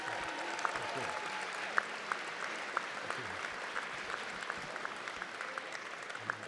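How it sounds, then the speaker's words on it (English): Steady applause from an induction ceremony audience honoring past inductees in attendance, a dense even patter of many hands sustained throughout with occasional sharper claps standing out. "Give them all a round of applause."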